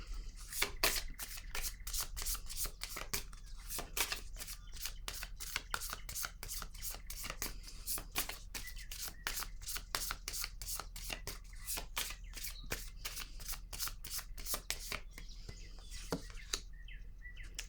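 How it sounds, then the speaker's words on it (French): A deck of cards is riffled and shuffled in steady rapid flutters, soft and close, continuing alone for many seconds before another card is drawn, with faint background ambience. "Je vais piger une autre carte."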